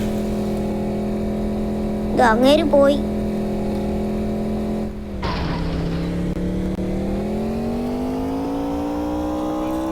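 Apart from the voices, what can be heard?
Wagon R car driving in a video game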